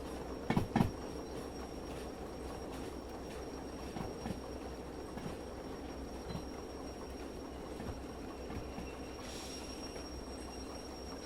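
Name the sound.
train rolling on rails in Derail Valley video game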